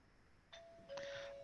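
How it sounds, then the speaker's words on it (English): Doorbell rings twice in quick succession, a faint electronic chime with the second tone slightly louder, heard alone in a quiet room. "I heard a doorbell."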